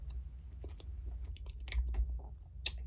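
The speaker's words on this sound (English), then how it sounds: "But you're smacking and it makes it sound good." Quiet, close smacking and crunchy chewing of a snack, with irregular bites and lip smacks over a low steady hum, and no talking.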